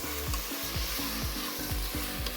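Chopped tomatoes for tomato pulao sizzle in a hot pan while a spatula stirs them in quick, regular scraping strokes, close and continuous.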